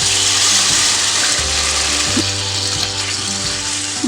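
Squeezed tamarind extract is poured into a hot pan of Kerala-style tomato rasam, setting off a loud, steady crackling sizzle close up, with a faint liquid splash and no voices.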